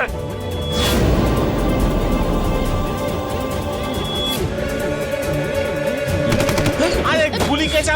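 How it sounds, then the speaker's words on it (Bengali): Staged machine gun fire bursts from inside a van that has crashed into an office in a Bengali TV crime drama, loud dense rapid rattling through the whole stretch with music and effects layered underneath. "স্যার, গুলি তো গাড়ির ভিতর থেকে চলছে।"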